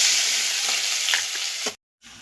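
Spice paste hits hot oil with cumin and mustard seeds, producing a loud, close, even sizzle with a few crackling pops; it cuts off abruptly into brief silence, then a quieter sizzle returns.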